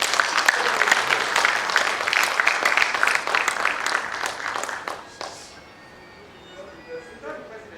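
An audience at an association induction ceremony applauds an honored guest with dense, lively clapping for about five seconds, then it dies away into quiet room sound with faint voices.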